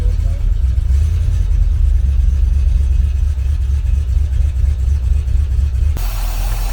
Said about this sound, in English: As you can see, this engine is running really sweet.